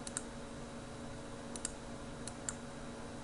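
Computer mouse clicking on a button in Windows setup software, a few sharp isolated clicks spaced apart over a quiet steady hum.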